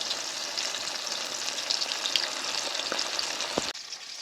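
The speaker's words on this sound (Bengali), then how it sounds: "মাছের পিসগুলো আমার ভালোভাবে ভাজা হয়ে গেছে" Loud, steady sizzle of hilsa fish pieces frying in hot oil, a dense crackling hiss that runs throughout and drops off briefly near the end.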